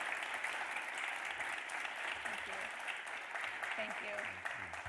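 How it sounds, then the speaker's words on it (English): Sustained audience applause fills a family-night event for a cystic fibrosis gathering, dense steady clapping throughout with faint voices underneath. "Let's give them a big round of applause."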